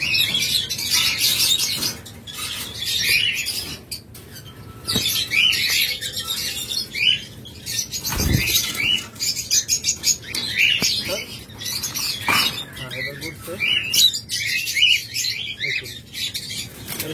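A pair of pied lovebirds kept for sale chirps and tweets in quick, high bursts, with brief flutters and scattered knocks between calls, fairly close and lively.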